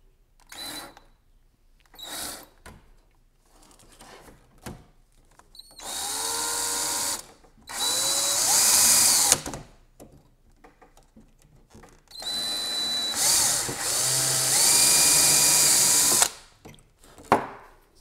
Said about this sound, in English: Drill our pilot hole.